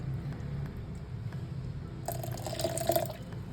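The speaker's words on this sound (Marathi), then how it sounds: "हे मी भांडं धुवून पण घालते पाणी मिक्सरचं" Water poured from a rinsed vessel into a mixer jar of neer dosa batter: soft dripping and trickling, then a brighter, louder splashing pour in the last second and a half, close and quiet.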